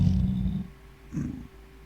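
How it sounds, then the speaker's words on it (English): A flame kitty in the Minecraft Tektopia mod purrs in two short, low, rumbling bursts separated by a brief pause, close and fairly loud with no talking over it. "There's a flame kitty."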